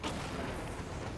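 A detonation in the video game Batman Arkham Knight sounds as a dense, sustained low rumbling roar filling the whole clip at steady loudness, with no talk over it.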